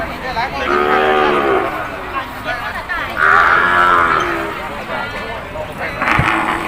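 Cattle at a livestock market moo loudly and repeatedly, with long drawn-out calls close by over a windy outdoor background, and someone talks in between.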